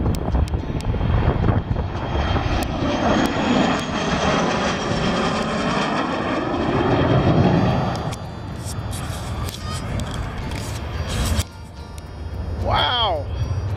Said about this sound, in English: Wow, I was buzzed by a fighter jet.